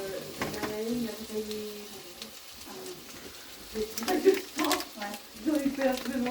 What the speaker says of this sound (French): Hop, on met les lardons.